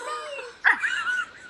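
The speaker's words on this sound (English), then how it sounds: "That's my dog!" An American bulldog gives a single short bark in a room, close and fairly loud, with faint whining and background sound around it.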